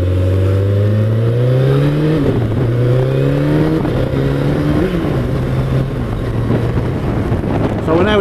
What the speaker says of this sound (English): The engines are so torquey, you know, you haven't got to keep changing down to go anywhere. They'll just pick up and go.